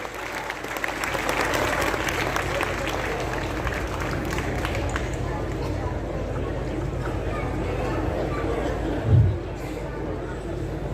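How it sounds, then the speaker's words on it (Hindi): Sustained audience applause at a political festival stage event, steady dense clapping from a large crowd lasting about eleven seconds with a brief thump near the end. "जोरदार तालियों से इनका स्वागत करें"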